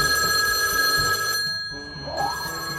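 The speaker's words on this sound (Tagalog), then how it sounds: "Ayan na, tumutunog na yung telepono." A telephone rings loudly and steadily, its bright electronic bell tone filling the room with no talking over it.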